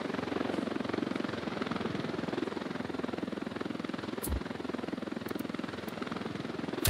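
Helicopter rotor thudding steadily and loudly throughout a military tactical shooter game, with a short spoken word near the start.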